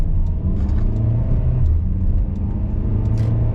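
A truck drives past, its loud, close engine rumbling and droning steadily for a few seconds, alone and without speech.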